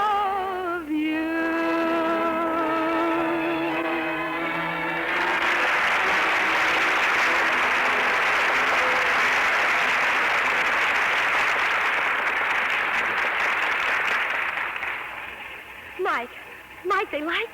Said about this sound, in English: they're still applauding me